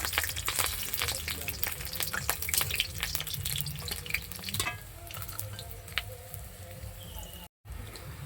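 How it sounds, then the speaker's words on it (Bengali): Fish pieces fry in hot oil with a constant crackling sizzle, punctuated by sharp clicks and scrapes as they are turned. The sound grows quieter partway through, with a brief total dropout near the end. "টুকরো করা মাছগুলোকে আমি তেলের মধ্যে দিয়ে দেব।"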